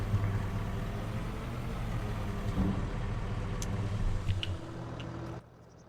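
A service truck engine in a farming game runs at a steady idle with a low hum, close and moderately loud, then cuts off abruptly near the end, leaving faint background.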